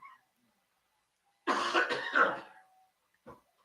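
Single harsh cough with throat clearing from a play-by-play broadcaster at a high school football game, close and isolated against silence, followed by a brief short throat sound.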